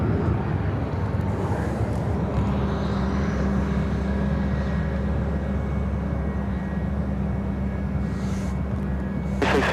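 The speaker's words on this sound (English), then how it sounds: "This is United Airlines 2033 taking off to Cleveland on the MAX 9." A United Airlines Boeing 737 MAX 9 takes off from Chicago O'Hare for Cleveland, heard as a moderate, steady rumbling engine drone that holds at an even level.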